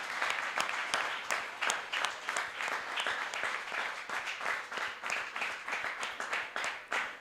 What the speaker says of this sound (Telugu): పరిశుద్ధాత్మ దేవునికి గట్టిగా చప్పట్లు కొడదాం.